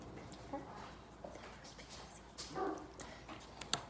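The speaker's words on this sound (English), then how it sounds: "Dog's barking again." A dog barks a few times at a distance, faint short yips and barks over steady low room noise, the loudest burst near the end.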